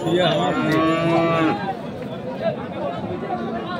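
Bulls at a busy cattle market in Ambari Haat, Dinajpur, give a loud, long, close moo, then a quieter bellow, over the chatter and babble of a crowd.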